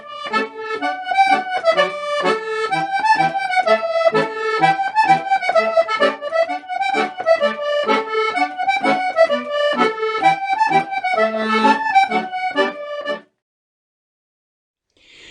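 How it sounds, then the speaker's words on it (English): A Strathspey tune played with its dotted quaver and semiquaver patterns exactly as written, giving an even, rather stiff bouncing rhythm; a clear solo melodic instrument, steady and moderately loud, stopping abruptly near the end. "If we play the dotted quaver, semi-quaver patterns as written, the tune would sound like this."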